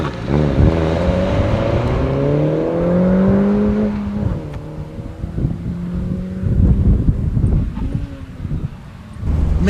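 A 2013 MINI Cooper S Roadster accelerating hard with the roof open, engine revving up through rising gear pulls with shifts, heard from inside amid heavy wind rush.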